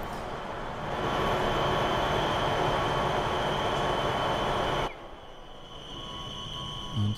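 A train in a railway-building video game rumbling along at steady volume, a loud rolling roar with a faint squeal, then dropping abruptly to a quieter hum as the sound cuts.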